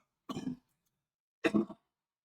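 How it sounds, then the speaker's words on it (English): Two separate coughs from a person recovering from an upper respiratory infection, close and fairly loud, about a second apart with silence between them. "I'm sorry about the coughing"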